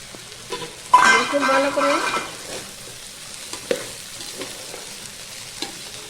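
Fried vegetables being stirred into partly cooked rice in a pot for pulao, a loud burst of sizzling and spoon scraping near the start, then quieter frying with a few clinks and taps.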